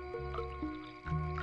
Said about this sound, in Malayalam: വെള്ളം ഒഴിയടാ